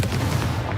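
Confringo fire spell exploding in Hogwarts Legacy, a brief loud rumbling blast with dense low crackle, heard close and alone for under a second.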